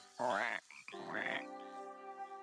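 Toads croaking as a story sound effect for a dirty little house full of snakes and toads: loud, close, ratcheting croaks in two bursts, then a sustained tonal trill fading away.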